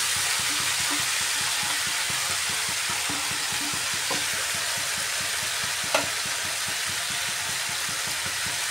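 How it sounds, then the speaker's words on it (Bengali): Tomatoes being stirred in a hot pan before cut taro stolon goes in, a steady frying sizzle with repeated rhythmic scraping of a spatula, close, with one brief clack near the end. "টমেটোগুলো একটু নাড়াচাড়া করে কেটে রাখা কচুর মোড়াটা দিয়ে দিচ্ছি।"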